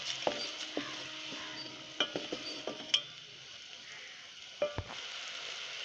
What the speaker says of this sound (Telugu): స్టవ్ మీడియం ఫ్లేమ్లో పెట్టుకుని ఇలా పాకం పట్టుకుందాం